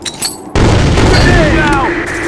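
A grenade explodes in a Sand Storm video game match, a sudden loud boom that sets off a sustained roar of blast and debris lasting about two seconds, with voices and game chatter heard around it.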